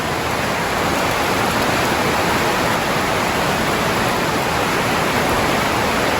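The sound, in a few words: heavy rain falling on pigeon loft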